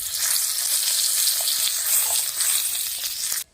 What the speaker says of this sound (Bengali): কি তেলে আমি এখানে ফোড়ন হিসাবে দিয়ে দিচ্ছি কালো জিরে, শুকনো লঙ্কা আর 2টো তেজপাতা।